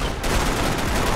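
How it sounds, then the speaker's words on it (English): Gunfire in Max Payne 3, a loud, rapid burst of overlapping shots crowded into about a second. "I'll shoot the people first"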